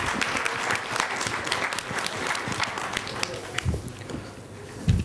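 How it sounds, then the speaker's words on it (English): Audience applause at a quiz competition event, dense clapping from a crowd that fills the room steadily and then thins toward the end, with a few louder bumps near the close. "Can we have a round of applause for him?"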